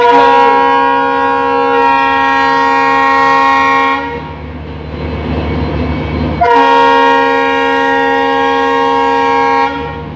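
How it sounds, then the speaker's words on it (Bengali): The Vivek Superfast Express, running from Dibrugarh to Kanyakumari, sounds two long, loud, blaring horn blasts. Between them comes a stretch of rumbling wheels on the track. "ভারতে সব থেকে দূরত্ব অতিক্রমকারী ট্রেন হলো এটা ডিব্রুগড় থেকে কন্যাকুমারী বিবেক সুপারফাস্ট এক্সপ্রেস"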